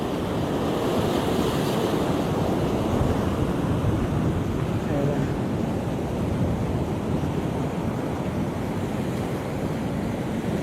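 Sea waves wash continuously against an eroding shoreline, a loud, steady roar of surf mixed with strong wind buffeting the microphone, with no voices over it.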